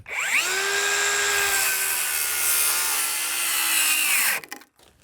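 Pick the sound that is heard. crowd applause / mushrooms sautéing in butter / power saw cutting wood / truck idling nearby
power saw cutting wood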